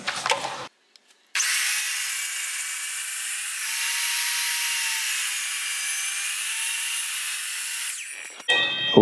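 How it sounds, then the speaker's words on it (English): A Bauer miter saw cuts through an end-grain tree cookie in one loud, continuous bite lasting about seven seconds, bracketed by brief clicks and handling noise at the start and finish. "thank you, Bauer miter saw"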